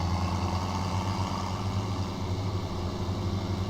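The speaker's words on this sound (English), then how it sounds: "I love how fast this tractor goes." Tractor engine in Farming Simulator running steadily while driving, a low, continuous droning hum with a constant pitch and no talk.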